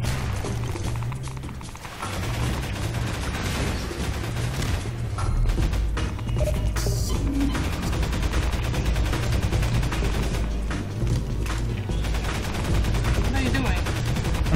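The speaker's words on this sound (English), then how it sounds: "Shooting these guys that are attacking me." Rapid automatic gunfire in Garry's Mod while fighting attacking enemies, sustained loud bursts with thumps and booms throughout, a voice speaking faintly beneath.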